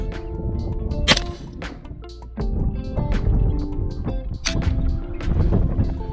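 Several sharp gunshots crack out from a handgun fired at targets on an outdoor range in Arizona, spaced irregularly over steady wind and rumbling background noise, with a loud report near the start and others following.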